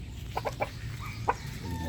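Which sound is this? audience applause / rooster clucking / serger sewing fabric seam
rooster clucking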